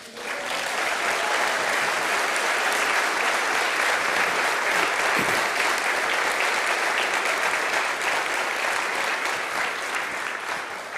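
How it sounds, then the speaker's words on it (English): A large audience claps steadily for arriving guests at a political event, dense sustained applause filling the room at full volume for the whole stretch with no break. "Come on, let's clap for them."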